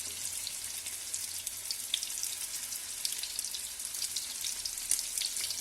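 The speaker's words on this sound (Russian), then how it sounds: "И также мы жарим с двух сторон, чтобы хорошо поджарились" Meat patties fry in a pan with a steady, soft crackling sizzle and scattered pops, heard close and alone at a fairly low level throughout.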